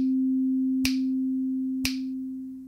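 A Sonic Pi synth note with a fast attack and decay holds as a steady low electronic tone, slowly fading, with two sharp click-like transients about a second apart.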